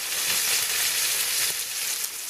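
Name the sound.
ostrich steaks searing in a pan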